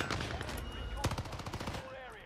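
Video game gunfire: a burst of rapid, close shots with sharp repeated cracks around the middle, over steady game noise, with a voice speaking faintly underneath.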